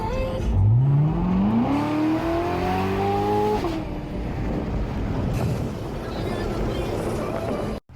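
A 755-horsepower Corvette engine revs up, its pitch climbing steadily, then settles into a loud, steady drone as the car drives on.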